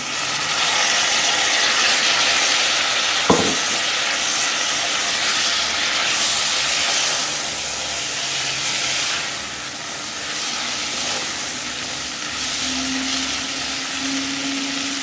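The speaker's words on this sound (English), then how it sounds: "Then I'm going to add the Serm." Serm hits a hot pan already holding browned masala with salt and turmeric, setting off a loud, steady sizzling hiss that runs for many seconds after one brief clunk early on, with no speech.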